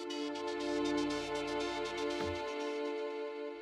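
A Kilohearts Multipass preset layered with strings plays as a sustained electronic texture with rhythmic pulsing high shimmer over steady string tones, a low swell midway, loud and alone.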